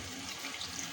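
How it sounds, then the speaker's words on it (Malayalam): Water is poured into a simmering crab curry, a brief, soft, steady splashing trickle heard close and alone for about a second. "കുറച്ചുകൂടി വെള്ളം ഒഴിച്ചു കൊടുക്കുക."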